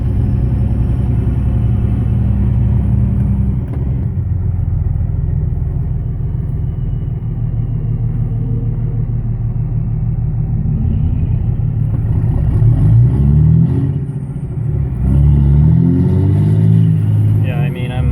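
A truck engine idles steadily with a low, throaty rumble and slight rattle, a headache rack deck with an octagon stack fitted, the tone shifting a little near the end, with a voice talking over it.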